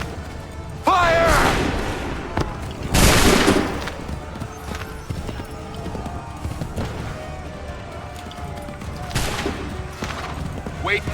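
A musket volley fired on command in the video game Assassin's Creed 3: two loud crackling bursts of massed shots among battlefield clatter, with hoofbeats and people talking around them.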